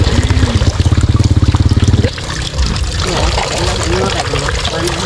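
Natural spring water pours and trickles in a close, steady splash, preceded by a couple of seconds of rapid rhythmic pulsing before the flow settles into an even rush.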